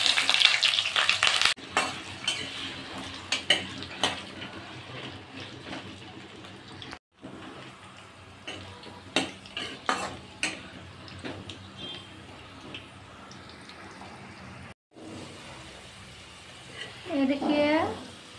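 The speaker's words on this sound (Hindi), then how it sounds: "इसमें तेल दे दूंगी और सारे आलू फ्राई कर लेना है।" Potatoes for Bengali aloo dum fry in hot oil in a kadai on a gas stove, giving a steady sizzling hiss with occasional stirring clatters. A voice is heard at times over the frying.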